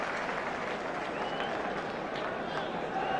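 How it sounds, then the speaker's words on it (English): A football crowd at Upton Park in 1983, during West Ham against Aston Villa, roars steadily after a near miss by Villa. Dense, continuous noise and cheering carries a few clapping bursts through the whole stretch. "that's brought the crowd to life, even though it was a near miss by Villa"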